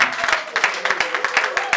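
A small audience applauds during an ambassador nomination ceremony, with loose, uneven claps that rise and fall in a ragged rhythm, fairly close and moderately loud, and a voice faintly present underneath.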